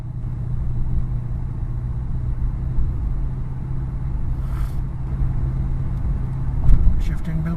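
A 2007 Mercury Grand Marquis runs at a steady, low idle while its gears are checked after a turbine speed sensor repair. The engine rumble is continuous and moderately loud, with no talking.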